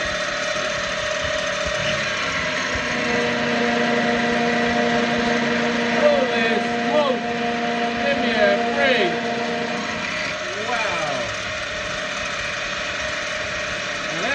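A milling machine running at about 2,000 RPM makes a cut, giving a steady whine with tonal hum, close and moderate in level, as shifting cutting chatter appears over it midway.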